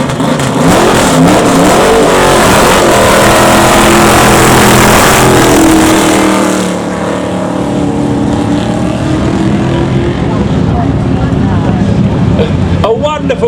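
A little Trans Am race car accelerates hard close by, its engine note climbing loudly through rising revs for several seconds before easing into a lower, steadier roar, with people talking underneath.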